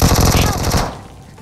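Rapid automatic gunfire in BGMI (PUBG Mobile), a loud dense burst of shots that cuts off and tails into a brief echo.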